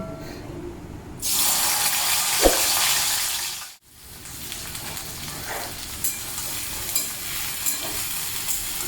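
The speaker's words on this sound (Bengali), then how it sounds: "এটা গরম হয়ে গেছে ছোটো কড়াইটা, তো আমি ভিন্ডিটা দিয়ে দিই।" Okra with slit green chillies tipped into a hot small pan bursts into loud, bright sizzling, which then settles into steady frying with occasional stirring clatter after a short pause.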